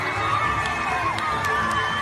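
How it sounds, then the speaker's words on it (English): Crowd at a school basketball game erupting after a player's first basket, a dense roar of cheering and shouting with high whoops rising over it, steady and loud throughout. "he scored his first basket, and the crowd lost it"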